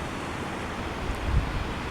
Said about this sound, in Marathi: लाटा अगदी पुढे पुढे येत आहे.